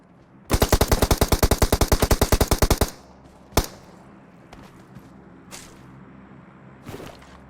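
Automatic gunfire in the PUBG Mobile game, a loud rapid burst of about twenty evenly spaced shots lasting a couple of seconds, followed by a single sharp shot and faint distant pops.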